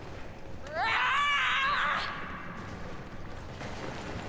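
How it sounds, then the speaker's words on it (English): A character in Star Wars Battlefront lets out a single loud, wavering scream of about a second and a half, set against rumbling game noise. "Scream, I love that scream."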